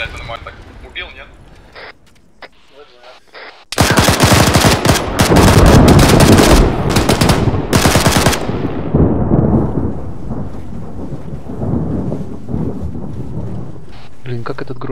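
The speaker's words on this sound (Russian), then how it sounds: "как этот гром меня напугал" Thunder in the Arma 3 video game, a sudden loud crack that rolls into a long rumbling roar and slowly fades, with gunfire-like bursts and rain noise around it and people talking before it starts.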